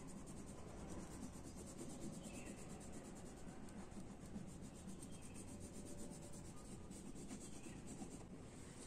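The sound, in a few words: crayon coloring paper corn leaves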